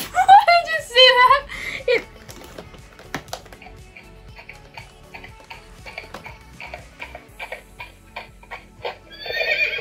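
A Blue Ribbon Champions toy horse lets out several high, electronic whinnies, followed by a steady run of clicking clip-clop hoof beats and another whinny at the end.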